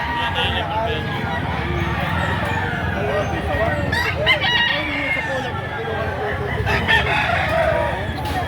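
Roosters at a rooster sale in Lipa, Batangas crow and cluck close by, with several loud crows layered over a busy background while people talk throughout.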